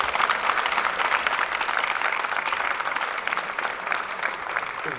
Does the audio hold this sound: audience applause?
yes